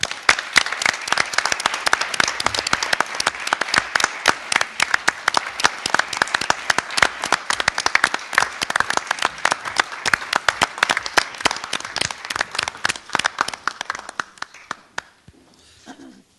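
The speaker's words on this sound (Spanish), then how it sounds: "Un fuerte aplauso." Audience applause at the Getafe Negro 2014 award ceremony, a sustained burst of many hands clapping loudly and densely for about fourteen seconds before fading out into near silence.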